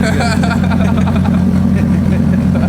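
A very loud, deep-rumbling truck engine idles close by, steady throughout with a strong low-end throb, while people talk over it.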